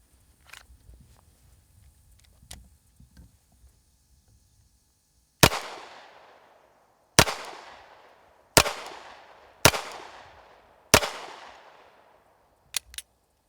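Five sharp 9mm hardball gunshots hit a Patriot armor plate at uneven intervals, each a loud close crack with a short decaying tail, then two quick fainter pops after quieter handling noises.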